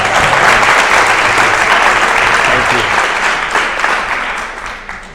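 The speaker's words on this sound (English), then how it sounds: "Let's give a round of applause." Dense, steady applause from an evening audience greeting a two-time world champion boxer, loud and sustained throughout, slowly thinning toward the end.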